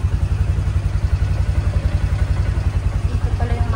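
A vehicle engine runs steadily nearby with a low, throbbing vibration, its pulsing rumble continuous and fairly loud throughout, with no talking.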